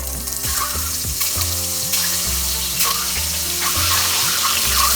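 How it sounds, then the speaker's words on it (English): Eggs frying in hot mustard oil in a pan, a loud, steady bubbling sizzle with a continuous watery hiss throughout, no voices. "Oil is hot enough. We will fry the egg first."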